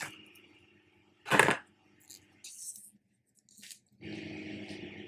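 A knife slices through a moist purple cabbage, giving a sharp crunchy squish followed by a few softer wet cuts and scraping sounds, close and fairly quiet, with no talking.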